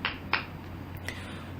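Two sharp hand claps come in quick succession, close and crisp, followed by quiet room hum.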